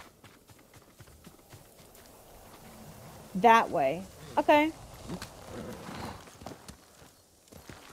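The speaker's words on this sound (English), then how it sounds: "I just love how my horse just prances around like that." Light rhythmic clip-clop of a prancing horse's hooves in the video game Ghost of Tsushima. The hoof taps run quietly through the background, and a person speaks briefly over them.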